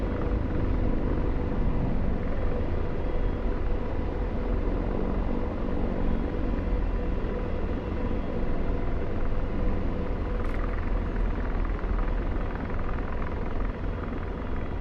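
A DCS World helicopter rotor drones steadily and close throughout, a continuous heavy rumble with faint whine and no pauses, while the rotor RPM is low.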